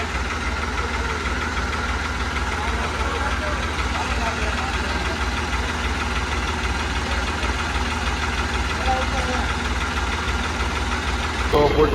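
A tractor engine idles steadily and fairly loudly at a rural home where a borewell is being dug, a constant low mechanical rumble throughout with no pauses.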